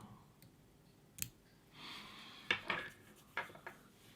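While fly tying an Irish lough style mayfly nymph, small scissors snip and click faintly at close range, a few soft rustles and sharp ticks spaced irregularly over a quiet background.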